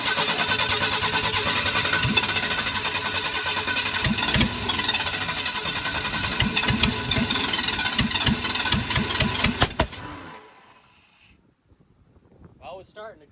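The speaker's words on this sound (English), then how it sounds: "Well, it's starting to go. It definitely backfired" A 1991 Ford F-150 engine under restoration runs roughly on starting fluid, sputtering loudly with sharp backfire pops for about ten seconds before cutting out and leaving a few faint knocks.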